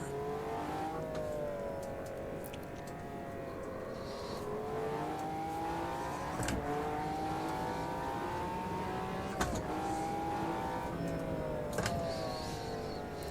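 A fast race car in the video game Automobilista 2 accelerates hard down a straight. The engine note climbs steadily through the gears with brief dips at each shift, a loud continuous whine with no voices.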